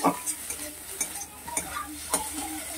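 Crushed garlic fries in a pan with a soft sizzle, broken by several light clinks and scrapes of a spoon stirring. Close and fairly quiet, no voices.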